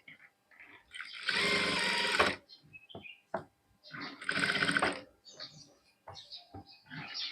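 A sewing machine stitching a straight line on fabric runs in two loud, steady whirring bursts of about a second each, with quieter handling clicks and rustles between them.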